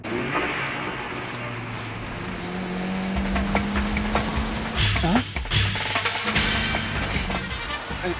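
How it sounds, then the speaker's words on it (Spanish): A turbocharged Toyota AE86 Levin in an anime race scene, its engine and exhaust revving and rising in pitch, with shifting drones, a quick mechanical clatter and a whooshing pass near the end. "Era un 8-6 Levin. Y además uno con turbo. He escuchado claramente el sonido del tubo."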